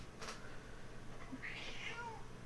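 A pet cat meows faintly indoors, a short soft call with a rising then falling tone, heard once near the end above a quiet background hum.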